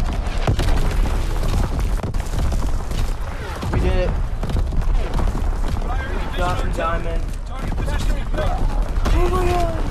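An artillery battery firing in an online video game, heavy booms and gunfire thudding through a loud battle mix, with players talking over the action.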